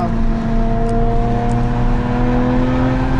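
A Porsche Carrera GT engine holds a steady, loud, close drone while it runs behind a safety car on a race circuit, with no revving peaks and a constant tone throughout.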